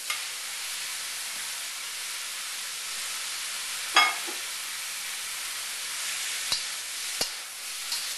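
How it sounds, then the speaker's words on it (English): Vegetables and minced shrimp stir-fried in hot oil for house special lo mein, a steady broadband sizzle throughout with a few sharp clinks of a utensil against the pan near the middle and end. "We're going to stir fry this all together."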